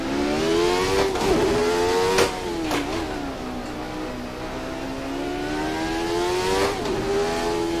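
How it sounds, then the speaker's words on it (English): A 1991 Jordan 191 Formula 1 car drives at Goodwood, its high-pitched engine screaming loud and close, rising and falling through several gear changes with sharp shifts. "Now we are in the 1991 Jordan 191, driven by Michael Schumacher in his Formula 1 debut."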